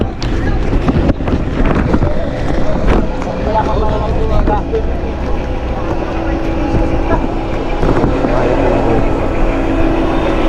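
A boat nears the shore at Burias to dock, its engine rumbling steadily beneath heavy wind buffeting on the microphone while people talk over it.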